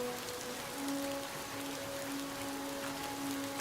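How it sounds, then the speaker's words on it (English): Steady rain patters on the ground in the Alaska Gold Fever video game, a constant soft hiss alone throughout with a faint hum underneath. "it's raining."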